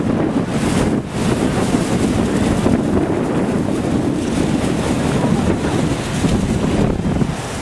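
Wind at Niagara Falls buffets the microphone with a loud, steady, broadband rush that barely lets up for the whole stretch, with no voices.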